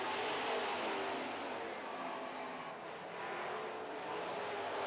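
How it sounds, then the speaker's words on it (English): Super trucks race around an oval racetrack, a continuous loud roar of engines with a broad hiss of passing vehicles that dips briefly and surges back. "The 2 truck comes hard off the top of turn 2."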